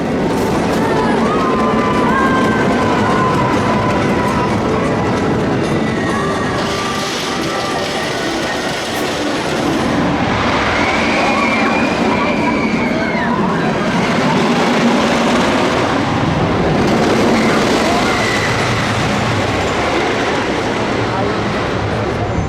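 Riding Troy, the GCI wooden roller coaster at Toverland, brings a loud continuous roar of wheels rattling on timber track with rushing wind and riders screaming throughout.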